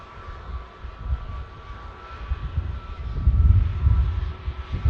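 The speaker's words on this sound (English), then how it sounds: "Here goes the Gulf Air Dreamliner next to go." A Gulf Air Dreamliner jet lining up on runway 05 left at Manchester Airport gives off a low, distant engine rumble that swells and fades unevenly, building louder toward the end.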